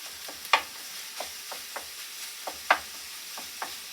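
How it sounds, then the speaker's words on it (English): Ground meat sizzling in a pan while a utensil breaks it up, a soft steady fry punctuated by sharp scraping stirs and taps, close and clear with no talking. "this is kind of frying up a little bit. I want to break this meat up."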